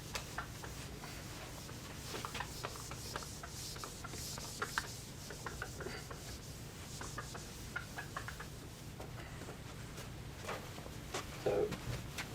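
A hand steadily rubs writing off a board during a university maths exam-questions session, producing a long, continuous scrubbing and rasping sound with small bumps and taps, close and fairly quiet, without speech.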